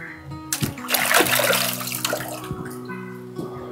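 Water splashes and runs while a rubber pressure cooker gasket is washed, a short burst of rinsing and splatter in the first half, with fainter trickling and a tonal hum continuing after.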